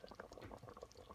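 Cranberry sauce thickened with agar agar boils in a pot, a close, quiet stream of bubbling pops and thick blips with no talk.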